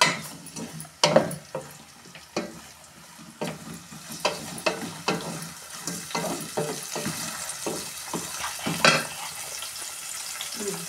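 Chopped tomato frying in a pan while making stuffed brinjal curry, with a steady sizzle under repeated scraping, stirring clicks of a spoon against the pan, close and moderately loud, no talking.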